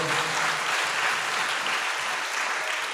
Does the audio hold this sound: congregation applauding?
yes